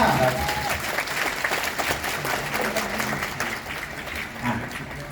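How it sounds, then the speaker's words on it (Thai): A concert audience gives a thick, sustained round of applause for a performer at a Thai tribute concert. Dense crowd clapping continues throughout with little change in level, and faint voices sit beneath it. "เสียงปรบมือให้น้องแอนด้วยค่ะ"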